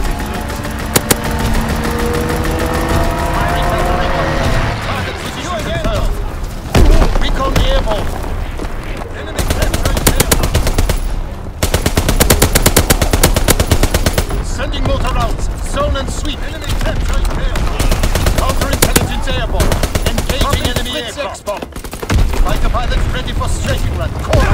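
Call of Duty WWII multiplayer match with a strafing run bringing sustained machine gun fire, dense and loud throughout, mixed with explosions, engine drone and game voice callouts.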